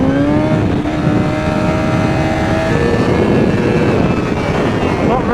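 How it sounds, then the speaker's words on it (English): A 2024 Honda Fireblade SP motorcycle engine braking on a ride, loud wind-buffeted engine tone stepping down in pitch as revs fall, close and continuous with no clear talk. "that engine braking really does help you."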